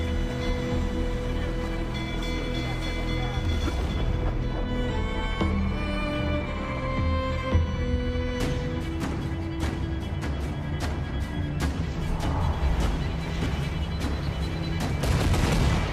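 Ship cannons fire during a naval battle in a pirate video game, with scattered booms and sharp blasts that thicken into a rapid volley in the second half over a rumbling background.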